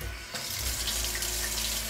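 A sink tap fed by a 12 volt pump in a doomsday prepper's underground bunker starts with a quick onset and then pours steadily, a loud continuous hiss of running water under a low pump drone.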